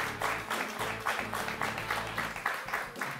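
Quiz show studio audience applauding a school team, with rhythmic, fairly even clapping from a modest crowd that stays steady for a few seconds.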